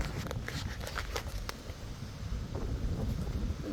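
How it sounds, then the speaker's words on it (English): Strong, steady wind gusts buffet the microphone during a big wind storm, a continuous loud roar with brief rattling patter. "It's gonna get very windier than this."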